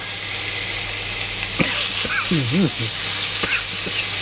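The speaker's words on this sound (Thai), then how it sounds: "ใส่ลงไปผัดได้เลยครับ" Sliced beef sizzles steadily in a hot pan, with a few scraping clicks of a utensil stirring and a short vocal sound partway through.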